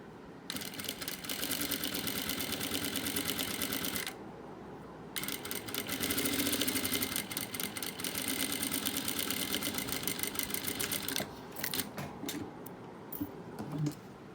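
Domestic sewing machine stitching fabric along a marked line for a heart quilt block, running in long steady bursts with brief pauses between them.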